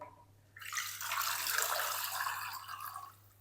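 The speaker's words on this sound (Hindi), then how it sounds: "अब हम ना इसके अंदर शामिल करेंगे पानी।" Water poured from a vessel over raw chicken pieces for soaking, a steady splashing gush that starts after a brief quiet moment and continues for several seconds before tapering.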